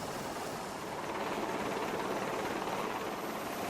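Helicopter hovering during an evacuation drill at sea, its rotor and engine giving a continuous, even, broadband roar that fills the whole stretch without pause.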